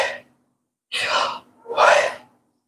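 A voice imitates breathing, drawing in an audible, breathy inhale and then releasing a longer exhale, two close, distinct bursts separated by a short pause, with no words spoken.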